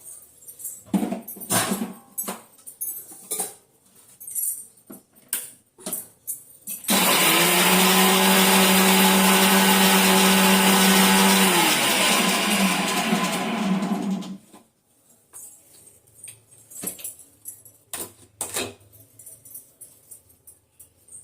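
A mixer grinder grinds masala, roaring loudly for about seven seconds, steady and whining, between stretches of clattering and handling noise before and after.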